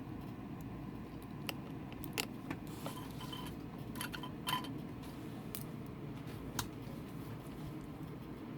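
Small scissors snip and fumble at a little tag, a few faint scattered clicks and metallic ticks spread through quiet, close but soft.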